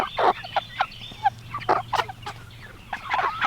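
Meat chickens kept for processing, in a feeding pen the evening before slaughter, cluck and give short gobbling calls in quick, close bursts with brief gaps between them.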